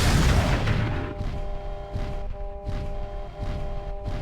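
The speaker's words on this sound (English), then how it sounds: "He's in range. I'm gonna fire." A Behemoth II, Crab or Daishi mech firing its weapons in MechWarrior 4: Mercenaries, a heavy boom followed by a rhythmic series of about five thudding shots with a steady mechanical hum underneath.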